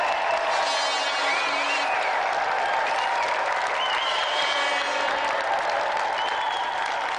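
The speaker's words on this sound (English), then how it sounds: "let's give another round of applause for our special guest tonight" A television game-show studio audience gives a sustained round of applause for a special guest, the crowd clapping loudly and evenly throughout with faint tonal music threads underneath.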